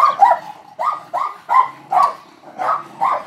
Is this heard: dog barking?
yes